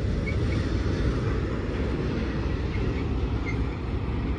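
A long freight train of about a hundred cars rolls past on Sullivan's Curve, a steady, loud rumble and roar that holds without letup.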